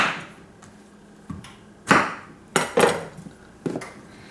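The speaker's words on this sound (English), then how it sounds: "what I'm going to do with my zucchini is I'm going to cut off the ends onto my cutting board" A knife chops the ends off a zucchini on a cutting board, giving a handful of sharp, separate knocks and thuds spread over a few seconds, close by with quiet pauses between them.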